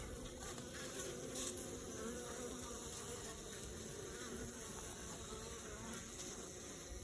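Bees buzz continuously in an attic, a steady, dense and fairly faint hum with no pauses.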